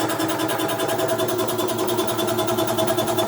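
An air compressor's repaired motor runs steadily while building up pressure, a continuous mechanical drone with a fast even pulse, close and moderately loud.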